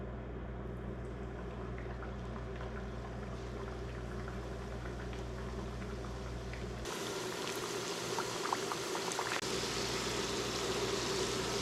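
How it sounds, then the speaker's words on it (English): Fried pies cook in oil heated to 375 degrees, giving a steady low bubbling fry that runs throughout with a faint crackle, moderately quiet with no voices. "now we're going to fry our pies until they're perfect golden brown"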